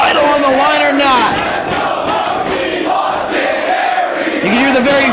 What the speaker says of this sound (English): You can hear the very vocal New York crowd supporting their chosen wrestler.